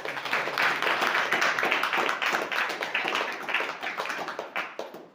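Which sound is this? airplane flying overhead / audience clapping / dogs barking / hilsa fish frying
audience clapping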